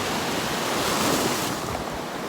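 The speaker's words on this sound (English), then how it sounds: "these waves just dump at the very last second and everything gets splashed" Ocean waves dump hard right on the shore and splash, a dense rushing roar that swells and recedes, close and fairly loud with some wind noise. No voices.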